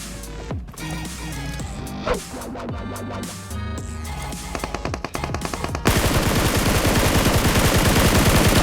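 Gunfire from the video game PUBG Mobile rings out over game music and effects, with rapid automatic bursts building into a dense, loud, continuous stream of shots near the end.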